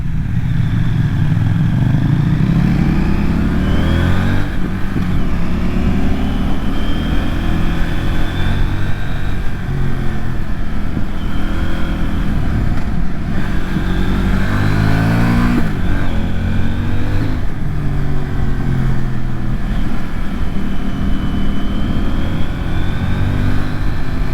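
A CF Moto NK800 motorcycle heard from the rider's position on winding roads, its engine droning loudly and continuously, rising and falling through gear changes and throttle blips, with heavy wind rush and no talk.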